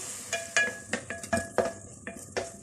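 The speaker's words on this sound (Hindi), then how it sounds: "इसमें अच्छी तरह से इसको मिक्स कर लेते हैं।" Capsicum being stirred into chilli garlic pasta sauce in a pan, a series of close, irregular scraping clinks of a utensil against the pan over a faint sizzle.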